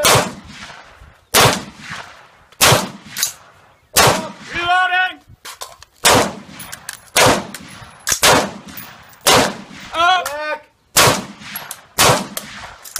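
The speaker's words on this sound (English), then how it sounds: "you can try practicing them with a buddy and alternating fire to maintain a steady stream of lead on the target." Gunshots from two shooters alternating fire during a tactical and competition shooting drill: sharp, loud reports in a steady, rhythmic sequence with only short gaps, plus a few metallic ringing hits on steel targets.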